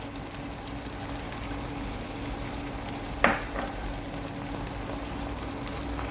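Vegetables with bok choy and spring onion stir-fried in a pan, a steady low sizzle running throughout with one sharp scrape of the utensil partway through, no voices.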